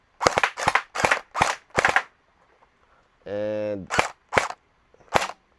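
A TG SLR v2 gel blaster toy fires in sharp, loud single shots, four in quick succession, then a short buzzing gearbox burst and three more spaced shots, with a brief spoken word in between.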